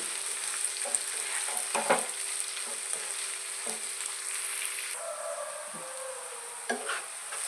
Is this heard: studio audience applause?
no